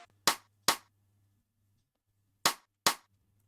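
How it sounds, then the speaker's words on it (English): A rim shot drum sample for an afrobeat in FL Studio strikes four times, in two pairs of sharp, dry clicks with a low hum underneath. "It's a rim shot, right?"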